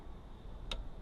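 A single sharp click as a torque wrench tightens a fork clamp on a KTM 690 Enduro R motorcycle, close and crisp over a low steady background hum.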